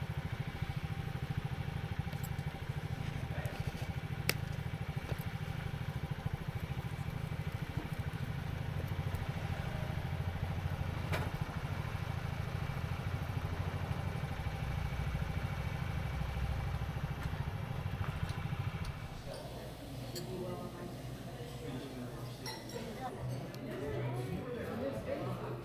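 Motorcycle cruising along a road toward Milton, a steady droning engine and wind rumble throughout that eases slightly near the end.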